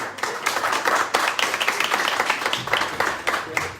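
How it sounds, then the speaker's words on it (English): Brisk applause from a small crowd at a startup pitch networking event in a coworking space, rapid close claps packed densely and sustained throughout, fairly loud. "Applause, applause."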